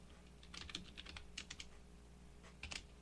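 Someone types on a computer keyboard in short bursts of quick, soft clicks, close by and quiet.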